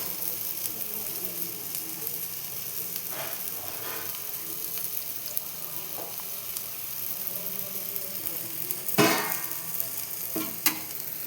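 Egg with Maggi noodles fries and sizzles in a pan, a soft steady sizzle with occasional scrapes and stirring clatters, close and faint.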